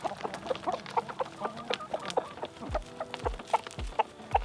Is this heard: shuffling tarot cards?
no